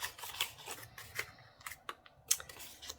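Small scissors snip through craft material during decorating, giving a run of close, crisp cuts in an irregular rhythm with brief pauses between them.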